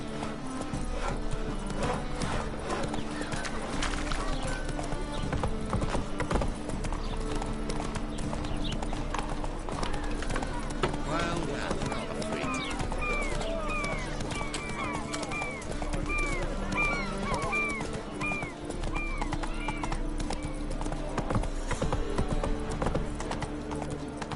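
Hooves of a galloping horse pound in a fast, steady rhythm throughout a Witcher 3 video game ride, with occasional whinnies under game music and a voice.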